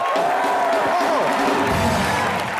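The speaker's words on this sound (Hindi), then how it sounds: "जोरदार तालियां सिद्धू बाजी के लिए" Studio audience at a comedy show cheers and claps for a guest: a loud, continuous crowd roar with whoops, rising and falling voices and clapping blended underneath.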